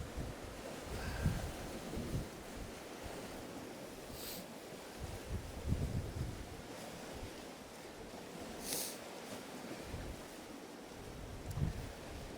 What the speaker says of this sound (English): That wind's coming around the corner a bit, isn't it?